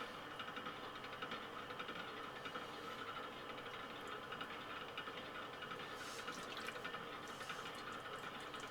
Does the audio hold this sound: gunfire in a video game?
no